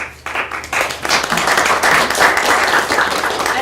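Audience at an academic conference applauds panelists, a dense burst of clapping that starts abruptly and holds steady for a few seconds.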